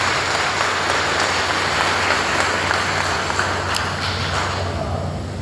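Dense, steady clapping from an audience at an education department promotion ceremony in Rohtas, loud and continuous throughout without letting up, with no speech on top.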